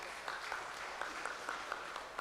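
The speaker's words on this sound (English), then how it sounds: "Please give our two wonderful speakers a big applause." An online conference audience applauds two speakers at an afternoon academic session, a faint, steady patter of scattered claps spread evenly across the moment with no voices.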